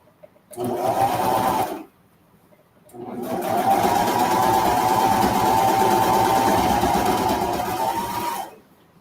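A sewing machine stitches the opening of a pair of kids' boardshorts closed through several fabric layers, running in a short burst, pausing briefly, then running in one longer, steady, close-up rattling stretch.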